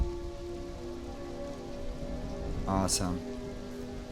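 Steady, close rain patters on a metal helmet in the video game The Frost Giant's Daughter, over held musical tones, with a brief spoken word near the end.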